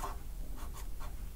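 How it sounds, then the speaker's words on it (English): A pen scratches small rectangles on paper, a few short close strokes in quick succession. "we're going to draw a little rectangles like this."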